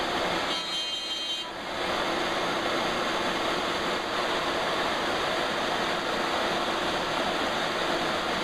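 Steady rain falls outside a hot woodworking shop, a dense, even hiss that holds for the whole stretch with no pauses or speech.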